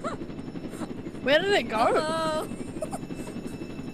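A helicopter in the Roblox video game keeps up a constant buzzing rotor drone throughout, with a player's voice speaking briefly over it in the middle.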